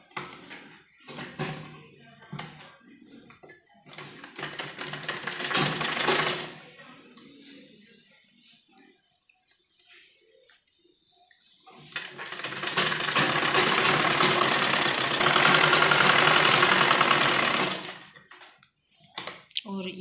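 A sewing machine stitches a kurti sleeve in two separate runs, one short burst early and a longer steady whir later, with quieter handling sounds and a voice in the gaps.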